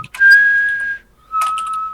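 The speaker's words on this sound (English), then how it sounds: "Can you whistle inward?" A person whistles inward, giving two sustained breathy tones close up: one long note, a brief pause, then a shorter second note, heard alone.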